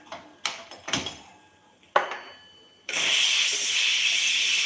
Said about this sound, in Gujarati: ગેસ ચાલુ કરીશું